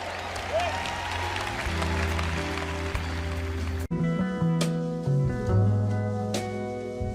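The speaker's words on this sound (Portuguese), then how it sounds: "Vamos aplaudir, louvando ao nosso Deus." An audience at a church sermon claps steadily, then the clapping continues under sustained organ-like musical tones and some voices.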